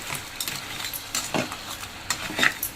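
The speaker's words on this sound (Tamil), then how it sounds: "நல்லா மிக்ஸ் பண்ணி விட்டுப்போம்." Crab pieces for a semi-dry crab gravy stirred in a pan, with scraping spoon strokes and a soft sizzle coming in short bursts, close and moderately loud with no voices.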